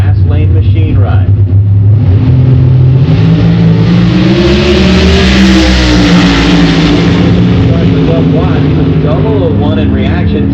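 A Top Sportsman drag racing car at an NHRA event roars loudly at full throttle down the lane, its engine note rising steadily over a continuous crowd and track din, with a commentator talking throughout.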